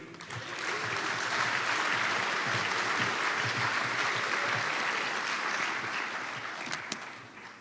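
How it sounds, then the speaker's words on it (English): Applause at an evening awards gala for design and leadership honorees, a full round of clapping that swells in, holds strong, then tapers off toward the end. "please a thunderous round of applause for Christina Norris of Oversea Yacht Interiors and Ken Hickling of Sherpa 6'3""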